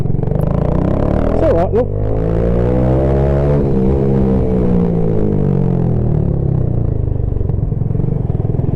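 Suzuki FL125 Address scooter pulling away in first gear, its small engine droning steadily and rising in pitch close to the mic, with a brief rattle near the start and a few spoken words over it.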